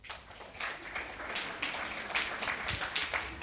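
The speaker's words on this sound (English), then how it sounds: "Thank you so much for clapping for me" A university summit audience applauds, a moderate ongoing wash of many hands clapping with uneven crackling peaks and no speech over it.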